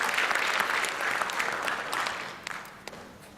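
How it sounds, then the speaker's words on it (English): Applause for the Hume City Council mayor at a multicultural evening event in Melbourne, a dense crowd clapping that holds steady, then thins out toward the end, with no one speaking. "Round of applause for Helen"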